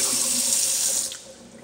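Water runs steadily from a household tap during a plumbing check in a house for sale, a loud continuous rush that eases slightly near the end, with no voices.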